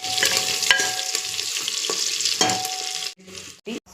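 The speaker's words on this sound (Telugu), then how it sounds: "కరివేపాకు వేద్దాము. ఇది కొంచెం వేగనివ్వాలి." Curry leaves and dried red chilies frying in hot oil in a pan, a loud continuous sizzle with occasional crackles and pops, ending in a few scraping stirs as the hiss cuts off.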